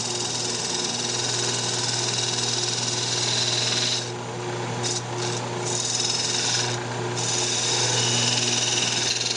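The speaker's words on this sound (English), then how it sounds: "I'm just going to go ahead and come in with the square scraper again and just true up the wall there" A wood lathe spins a turned lidded box with a steady motor drone while a square scraper cuts in a raspy wash that briefly thins and breaks off midway before resuming.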